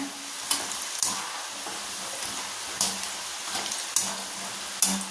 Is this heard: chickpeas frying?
yes